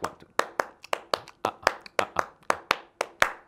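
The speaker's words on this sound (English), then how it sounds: "if I clap on a faster tempo" A single person claps hands close up in a quick, swung pattern while teaching djembe rhythm signals, about fifteen sharp, crisp claps grouped in uneven pairs, with a faint voice counting underneath.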